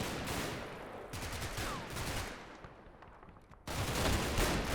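Machine gun fire in Combat Mission: Battle for Normandy, rapid bursts of rattling shots with a brief lull before a sharp renewed volley, distant-sounding and fairly faint, with no talking.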